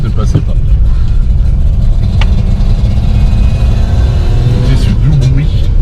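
A Wartburg's engine hums steadily while the car drives, a loud, constant mid-pitched drone with brief louder moments as the gear changes, heard from inside the car with voices over it.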